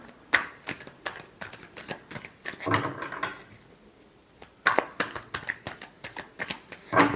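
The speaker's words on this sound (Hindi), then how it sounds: "Last shuffle." Tarot cards are shuffled close to the mic in quick, dense bursts of riffling and flicking, with a quieter stretch in the middle before the shuffling picks up again.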